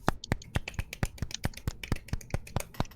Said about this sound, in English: So perhaps today, a minor golf clap